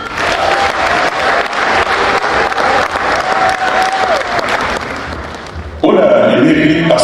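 Sustained applause from a gala audience in Paris, dense and loud throughout, swelling with some cheering near the end.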